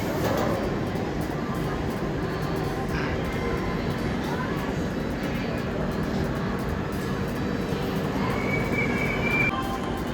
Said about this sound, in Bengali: 4 নাম্বার প্ল্যাটফর্মে দাঁড়িয়েছে ট্রেন আমাদের, অন টাইম